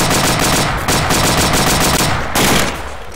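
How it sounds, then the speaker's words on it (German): Heavy gunfire comes in from the right: loud, dense automatic bursts crackle almost without pause, close and harsh, then ease off at the end. "Beschuss rechts!"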